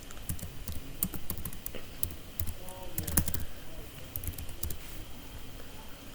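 Someone types on a computer keyboard, entering text into a spreadsheet: rapid, uneven bursts of clicking keystrokes through most of the stretch, over a low constant hum.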